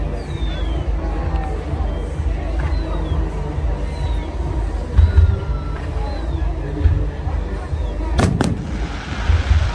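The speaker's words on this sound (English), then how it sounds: "Thunder flashes," Fireworks at the Bournemouth Airshow boom and crackle continuously over a large outdoor crowd, with a sharp thunder-flash burst standing out near the end amid whistles and a commentator's voice over the loudspeakers.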